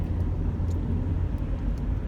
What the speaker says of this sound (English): I am in bumper to bumper traffic right now.